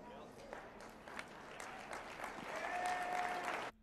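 Slow, scattered applause rolls through a crowd, steady and moderately distant, with voices running over it and a tone rising near the end before it cuts off.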